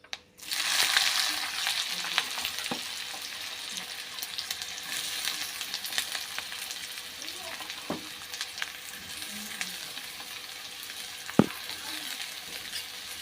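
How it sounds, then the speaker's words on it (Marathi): Chopped onion fries with mustard seeds in hot oil in a pan, making a steady, close sizzling hiss throughout. A few scattered stirring scrapes and taps sound over it, with no talking. "हा कांदा आपण छानपैकी परतून घेऊया"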